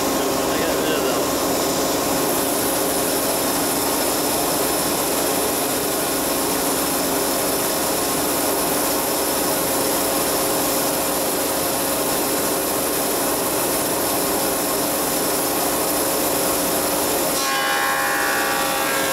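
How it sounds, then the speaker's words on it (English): A thicknesser planing sawn timber for a narrowboat build: a loud, continuous machine roar that holds steady throughout and changes pitch briefly near the end as the board clears. "that's what we do with the thicknesser"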